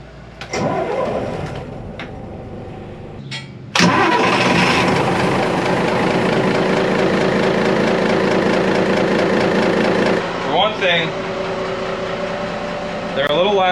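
Old mechanical marine diesel engines on a boat crank briefly, then catch with a sudden loud roar and settle into a steady, rough, heavy idle that fills the rest of the span.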